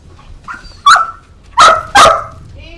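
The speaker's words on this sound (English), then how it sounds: "That might be what he's barking about." A puppy barks three times indoors, loud and close, with short gaps between the sharp yaps.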